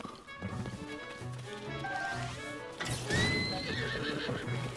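A horse whinnies loudly over steady clip-clop hoofbeats in Zelda: Tears of the Kingdom, with a backdrop of game music and effects.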